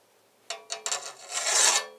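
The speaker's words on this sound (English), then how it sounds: "holding the file at an angle, so I'm not coming straight down" A hand file rasping along the edge of a 3D printer heatbed build plate while deburring, a few short scraping strokes followed by a longer sweeping rasp, close and crisp.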